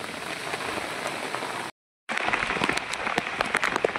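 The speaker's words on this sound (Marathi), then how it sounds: "पावसात पण आता चाललो" Rain falls in the jungle, a dense hiss of drops pattering on surfaces that cuts out for a moment and then returns, with scattered sharper drips close by.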